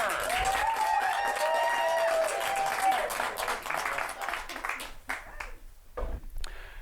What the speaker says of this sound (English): give another round of applause to Merritt and Connor